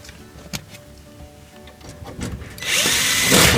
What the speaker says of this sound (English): You gotta just put these couple of screws in. That just holds the base of the venturi tube in position.